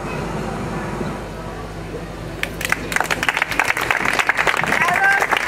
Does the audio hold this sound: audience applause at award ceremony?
yes